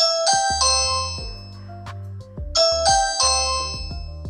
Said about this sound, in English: ring the doorbell and test it out